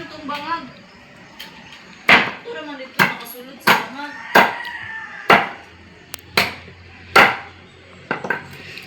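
A cleaver chopping roast pig (lechon) on a board: a steady series of about a dozen sharp, close thwacks spaced roughly a second apart, with voices talking in the background.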